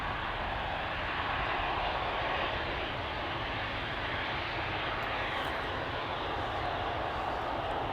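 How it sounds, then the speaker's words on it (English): An Airbus A350 airliner departs Amsterdam Schiphol, its engines a faint, steady, distant rumble that holds evenly throughout. "That's the A350."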